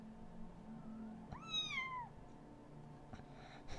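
A displeased cat gives one loud, drawn-out, falling meow close by, over steady low room noise.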